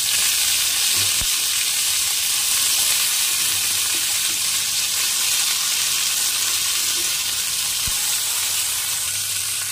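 Chopped bottle gourd greens frying in hot oil with whole cumin, a loud, steady hiss of sizzling close up that runs unbroken, with a couple of brief dull knocks from the pan.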